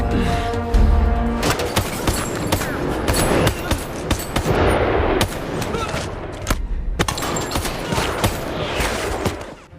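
Rapid bursts of gunfire crack through an action film shootout inside a building, with sharp loud shots and heavy booms piled over dense, busy background noise for the whole stretch.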